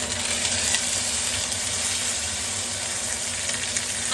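Pot roast seasoned with ground black pepper sears in a hot skillet, giving a steady, close sizzle that holds evenly for the whole stretch with no talking.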